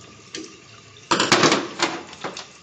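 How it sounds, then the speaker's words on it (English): Water gushing from a test cock on a double check valve assembly during flushing, a loud burst of spraying flow starting partway through and continuing with fluctuating intensity. "flush test cock number 4."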